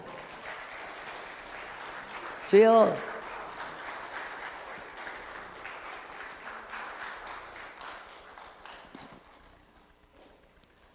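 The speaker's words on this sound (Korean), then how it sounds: "박수 쳐주세요" A church congregation claps steadily at a revival service, continuous moderate applause that swells briefly as a voice cries out, then thins and fades away toward the end.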